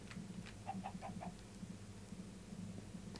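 Minecraft chicken clucking in the video game, a run of five or six quick clucks early on, then a few scattered ones, moderately loud over a steady low background hum.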